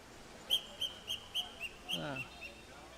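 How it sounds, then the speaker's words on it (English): Referee whistle blasts at a flag football game in Vietnam, six or seven short shrill toots in a quick uneven series, moderately distant over faint field noise and murmur. "There's whistles on the field."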